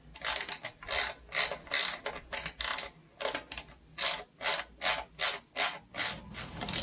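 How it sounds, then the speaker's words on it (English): A hand ratchet wrench clicks in a steady run of about a dozen short, loud strokes, close by, snugging down a part on a Briggs & Stratton pressure washer engine during a tune-up, with no talking. "grab your wrench, and then finish it the rest of the way"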